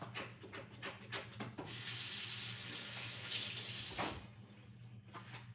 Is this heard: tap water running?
yes